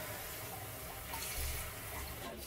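Water splashes and runs steadily outdoors for a couple of seconds, a soft continuous wash with a slightly fuller surge in the middle, no voices over it.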